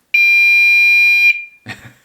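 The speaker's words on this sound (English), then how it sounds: "is quite a noisy alarm." Ravemen NT101 rear city riding bicycle light sounding its horn alarm, a loud, steady, piercing electronic tone held for over a second, followed by a brief rustle or click.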